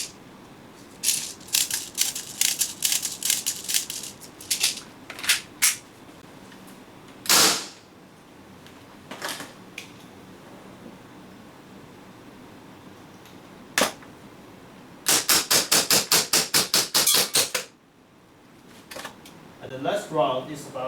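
A BB gun fires rounds from a competition magazine: sharp, dry snapping shots come first as scattered single reports, then as a quick string of closely spaced cracks near the end.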